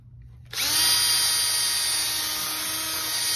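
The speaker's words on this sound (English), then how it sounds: "you're saving time by using that drill" A power drill starts abruptly with a loud, steady high-pitched whine that holds continuously, boring through wood up close.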